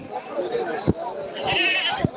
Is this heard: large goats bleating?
yes